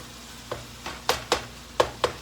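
Ground meat fries in a pan for stuffed bell peppers, with a steady low sizzle under six sharp scraping knocks, spaced at irregular intervals, as a utensil breaks it up.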